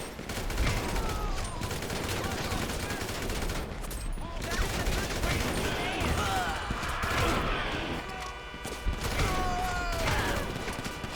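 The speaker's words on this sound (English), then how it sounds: "Oh, they're shooting a lot at me though, so I need to be very mindful." Enemy gunfire aimed at the player in a video game, dense bursts of shots and automatic fire across the whole stretch, mixed with game sound effects and a voice talking in places.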